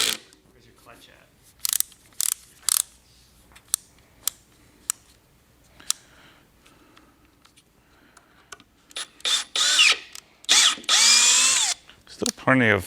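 A Milwaukee M12 cordless drill/driver in drill mode at speed 2, giving several short bursts and then longer loud whirring runs near the end, with quiet clicks and handling between them.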